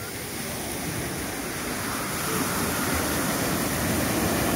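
Ocean waves breaking at the Waikiki surf break in Hawaii as a set rolls in, a broad continuous wash of surf that swells louder toward the end, with wind noise on the microphone.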